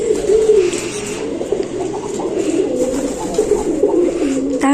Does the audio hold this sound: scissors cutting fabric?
no